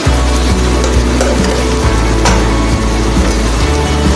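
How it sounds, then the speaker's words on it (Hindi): Cooked rice being stirred with fried tomatoes in a pan using a spatula, a continuous loud sizzle with scraping strokes throughout and no voices. "अब हम इसको टमाटर के साथ साथ चलाएंगे।"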